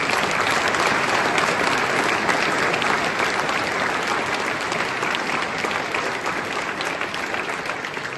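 A large audience breaks into dense, loud applause at a New Year's greetings ceremony in La Ferté-sous-Jouarre, a continuous roar of clapping that holds steady throughout and fades only slightly toward the end.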